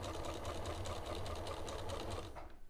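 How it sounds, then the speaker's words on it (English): A sewing machine runs continuously, stitching a garment for understitching with a fast, even mechanical chatter that stops abruptly near the end. "So you want to keep it stitching that way,"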